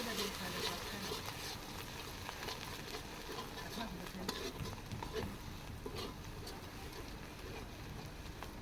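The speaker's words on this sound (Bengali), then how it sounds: "এবার এই রসুনটাকে হচ্ছে ফোড়ানি করে নেব।" Crushed garlic tempering in hot oil in a pan produces a faint, continuous sizzle with occasional stirring scrapes.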